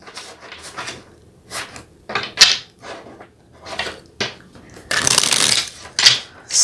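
Tarot cards being shuffled by hand during a card reading, soft riffling bursts and handling noises repeated in irregular spurts, fairly close and quiet, with no talking.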